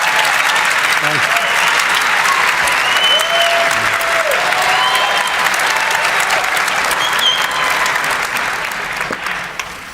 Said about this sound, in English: We were counting on like 10 minutes of applause at the beginning